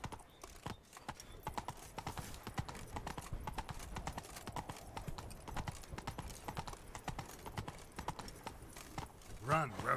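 Roach, the horse in The Witcher 3, gallops with rapid, rhythmic hoof clops that run steadily and up close, while a voice talks over them.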